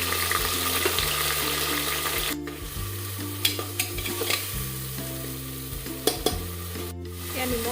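Chopped onions and a spice mix for goat meat curry fry in a pan with a steady sizzle, punctuated by a few clinks and scrapes of a stirring spoon; no talking.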